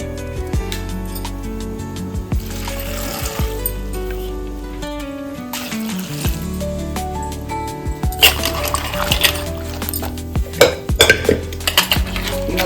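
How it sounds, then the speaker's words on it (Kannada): Broad beans washed in water in a metal vessel, with irregular close clinks, knocks and sloshing that grow busier toward the end, and no voices. "ಒಂದು ಪಾತ್ರೆಗೆ ಹಾಕಿ ತೊಳ್ಕೊತಾ ಇದ್ದೀನಿ"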